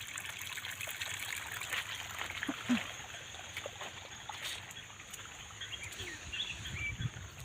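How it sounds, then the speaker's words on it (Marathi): Faint, steady trickling water runs continuously at low level into a flooded rice field, with light outdoor background noise. "बघा भातात किती पाणी साठले आहे तरी पाणी चालू आहे"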